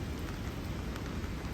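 Steady rain falling on a grey day in Tokyo, a dense, continuous hiss of drops on surfaces that fills the whole moment with no voices.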